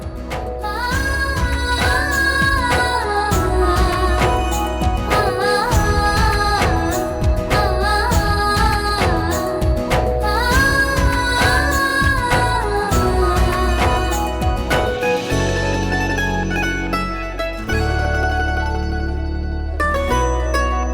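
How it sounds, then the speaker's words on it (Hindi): Classical music with singing playing from a radio at night, a steady full mix of voice and instruments running continuously and fairly loud with no talk over it. "वाह, क्लासिकल म्यूजिक, पर कौन गा रहा है?"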